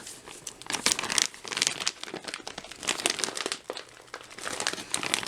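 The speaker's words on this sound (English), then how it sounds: "This is a peelable seal. Let's see if we can peel it." A sealed plastic ration meal bag from a 2017 Sopakco Meal Individual is tugged and twisted, giving bursts of close, loud crinkling and crumpling that come and go without letting up.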